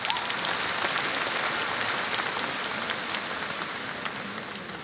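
An audience at a Miss Grand Thailand 2022 farewell event applauds in a steady, dense wash of clapping that holds at an even level from start to finish, with no other sound standing out.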